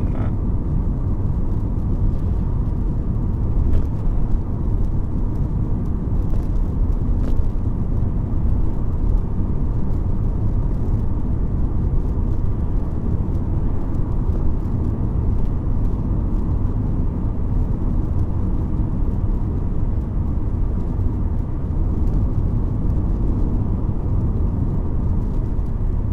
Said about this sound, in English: this car can take gear 5 at that speed